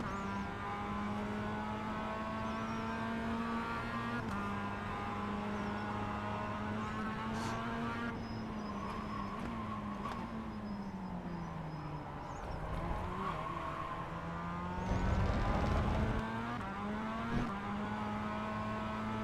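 Race car engines from the iRacing simulator drone steadily with harmonic whine, rising and falling through gear changes as several cars run close together, with a louder surge of revving near the end.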